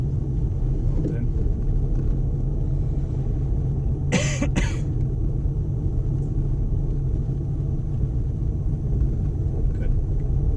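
Learner car engine accelerating gently during a driving lesson, a steady low rumble heard from inside the cabin, with a brief cough partway through.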